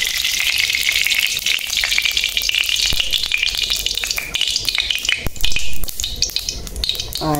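Oil in a kadai for taro fritters gives off a loud, steady hiss and sizzle close by, flecked with small crackles and pops, with no talking.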